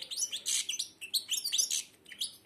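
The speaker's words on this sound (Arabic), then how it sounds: "بدا يغني شوية يغرد" A blind goldfinch with a nearly closed beak sings close by, a rapid string of bright, high twitters and chirps in quick bursts that run for a couple of seconds, clear and alone.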